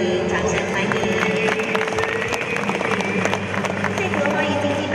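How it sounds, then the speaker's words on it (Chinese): Applause from a crowd welcoming guests at the opening of an exhibition in a museum hall, steady clapping under an announcer's amplified voice calling out names. "掌声欢迎"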